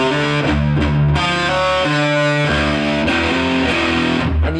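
Riff on a heavily distorted electric guitar, loud and chunky with palm-muted low chugs and sustained power chords in a steady repeating pattern, played alone.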